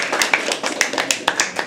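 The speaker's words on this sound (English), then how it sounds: "Keep clapping until he gets on stage" A few people at an open mic poetry night clap in a loose, uneven rhythm, individual claps distinct and fairly close.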